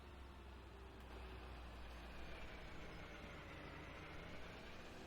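A big old tractor in Farming Simulator 17 runs continuously, a quiet, steady low engine drone with a faint mechanical hum, unchanging and with no voices.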